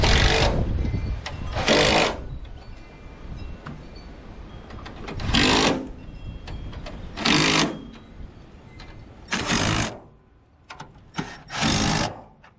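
Power tool tightening bolts during a Ford Ranger rebuild outdoors, six loud short bursts of buzzing rattle spaced a couple of seconds apart, with quieter handling clatter between them and no talk.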